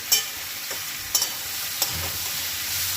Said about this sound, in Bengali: আদা বাটাটা দিয়ে খুব ভালোভাবে নেড়ে নেবে, ভাজা করতে হবে